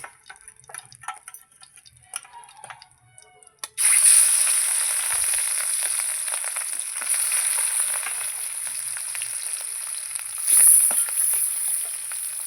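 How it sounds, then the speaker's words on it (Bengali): Catla fish pieces sizzle loudly in hot oil in a pan, a steady bright crackle that starts abruptly after a few seconds of quiet kitchen clatter and carries on continuously with a brief louder burst near the end. "এবার আবার দিয়ে দেবো মাছ"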